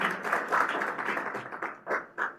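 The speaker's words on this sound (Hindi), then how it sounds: "जोरदार तालियां सर के स्वागत के लिए।" An audience claps to welcome a guest speaker at a free two-day NDS camp held at a school. The applause is modest and steady, with individual claps audible, and fades to a few final scattered claps.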